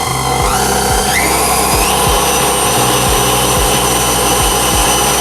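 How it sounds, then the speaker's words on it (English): Electric mixer whirring on high speed through cheesecake batter, a loud steady motor whine with rhythmic low thumps as the beaters turn, close and continuous without talk. "We're gonna lower it down and we're gonna let it mix on high speed."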